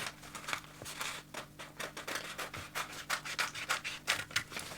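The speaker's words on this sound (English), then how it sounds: "So I'll go ahead to cut out my collar." Scissors cutting through fabric for a turtleneck collar, close rasping snips that rub and slide in an uneven rhythm and grow louder toward the end, with no talking.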